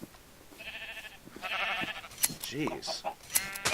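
Sheep in the Norsden video game bleating in several short overlapping calls, moderately close, while a man mutters briefly over them.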